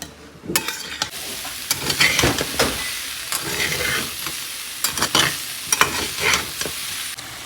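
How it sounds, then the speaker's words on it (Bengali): Spice masala is stir-fried in oil, with a crackling sizzle broken by repeated spatula scrapes and stirring bursts, close and fairly loud, with no voices. "এখানে আমি মশলা কষাচ্ছি"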